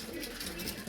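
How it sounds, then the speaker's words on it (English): Pigeons in a stock loft give a soft, steady low cooing murmur, faint and continuous, with no talk over it. "Really lovely pair of pigeons there that we got."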